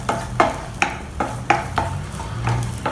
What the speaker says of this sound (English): These are a few onions which I have chopped. Lightly fry them.